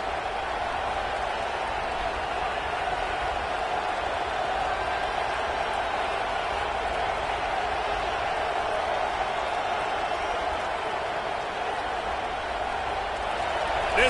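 A stadium crowd at a Georgia Tech versus Georgia college football game keeps up a steady, unbroken roar from start to finish, with a commentator's voice talking over it.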